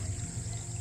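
Water from a portable swimming pool draining out onto grass, a brief steady trickling pour heard close with a low hum underneath.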